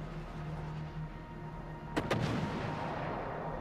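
Warship guns fire in World of Warships: Legends during a tier 4 T-22 battle, a quick pair of sharp booming shots with rumbling tails over a steady low engine and sea drone.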